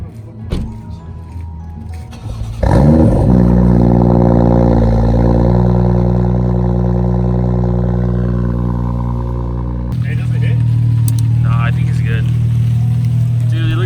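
A car engine cold-starts with a sudden loud roar after a brief starter crank, then settles into a strong, steady high idle that shifts slightly later on, recorded close with some faint voices before the start.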